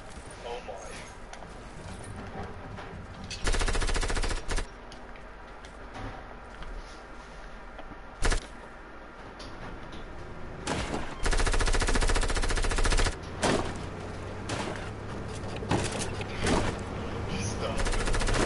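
Bursts of rapid video game gunfire, several loud volleys of automatic shots with short gaps between them, under a player's voice talking over the action.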